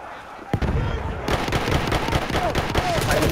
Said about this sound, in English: I think two guys around there, shot a grenade.